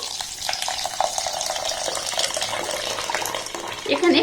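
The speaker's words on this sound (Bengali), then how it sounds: "এবার এখানে আমি জল দিয়ে দেবো" Water pours steadily onto washed rice in a bowl, a continuous close splashing rush that holds throughout, with a brief clink near the end.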